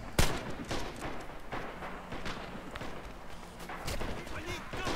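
Gunfire in the video game Red Orchestra 2, with a sharp close shot at the start followed by scattered distant shots and rumbles. Players talk over the battle.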